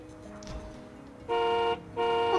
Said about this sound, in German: Und die Hupe funktioniert noch immer.